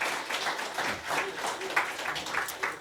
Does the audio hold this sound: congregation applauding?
yes